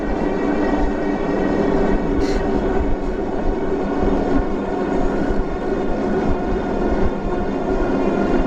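A HOVSCO HovGtrs 1500W moped-style ebike climbing a hill under throttle while being pedaled, heard as a loud, continuous broadband rush of motor and wind noise that holds steady throughout.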